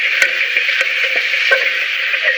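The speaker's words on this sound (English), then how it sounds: "You hear it sizzling in there." Chorizo sausage sizzles loudly and continuously in a hot pan on an outdoor grill, a dense crackling hiss with occasional sharper pops and ticks.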